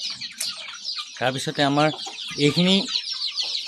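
Local chickens cluck in a poultry shed, with several close, repeated calls rising and falling, while someone speaks briefly over them.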